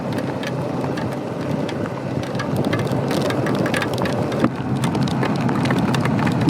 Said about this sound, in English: These raindrops are just falling out of the sky. Straight down, heavy, not fast.